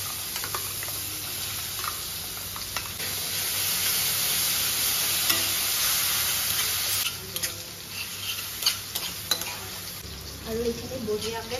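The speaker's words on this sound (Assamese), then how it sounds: "এইখিনি বঢ়িয়াকৈ তেল ওলালৈকে ভাজিম" Fish dish ingredients fry in oil with a loud, steady sizzle that swells midway, then breaks into scattered crackles and pops near the end, with no talking.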